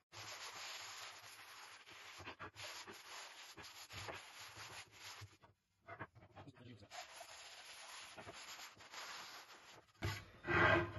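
Wood of a restored warehouse cart being sanded by hand, steady rough rubbing strokes close up, with a short pause midway and a louder scrape near the end.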